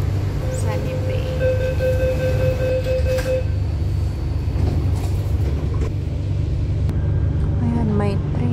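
Hong Kong MTR train rumbling steadily on the Tung Chung line near Sunny Bay, a loud continuous low drone with whining tones and brief squeals, heard from inside the carriage with faint voices.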